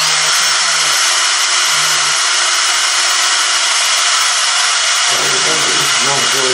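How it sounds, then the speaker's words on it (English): A power drill with a blunt bit drills steadily for several seconds, a loud continuous whirring drone that holds almost unbroken, with brief murmurs of voices underneath. "Not a very sharp drill bit."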